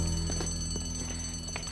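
Alarm bell ringing steadily and fairly loud in an emergency alert, a continuous buzzing tone with no pauses and no talking over it.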